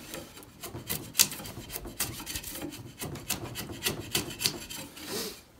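A hand tool shaves across a knot in timber on a timber frame build, making a steady series of rasping, scraping strokes that are close and fairly quiet, with no talk.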